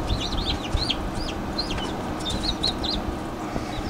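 Chicks and chickens in a homemade incubator hatcher setup give repeated high chirps and peeps throughout, over a steady low background hum.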